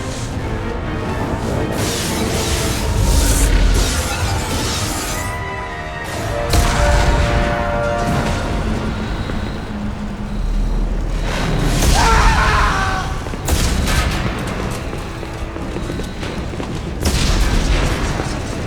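Explosions rock a starship under attack in Mass Effect 2, with repeated deep booms and blasts rising over a dense rumbling game soundscape, some bursts louder and nearer than others, mixed with faint voices.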